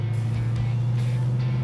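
A 1968 Shelby GT500KR convertible driving, its engine a steady, loud low rumble that holds evenly close by throughout, with faint background voices.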